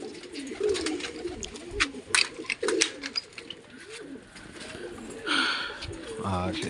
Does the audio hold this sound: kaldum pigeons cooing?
yes